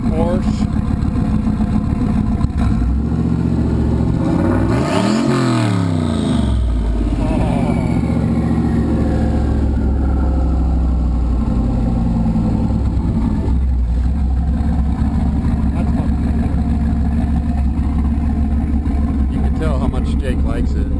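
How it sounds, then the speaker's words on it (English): A truck engine revving up and settling back, loud and close throughout, with a rising roar early on and a steady rumble underneath, while people talk over it. "Rev it up that way once. Still sounds awesome"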